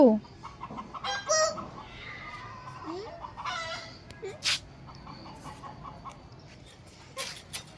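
Chickens in a Bangladeshi village yard, intermittent clucks and short squawks near and far, with a brief crow and scattered bird calls over quiet background.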